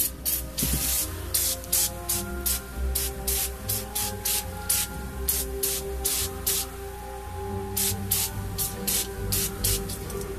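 Spray paint sprayed onto miniatures in a rapid series of short, loud, close hissing bursts, with brief gaps between them over a steady low background hum.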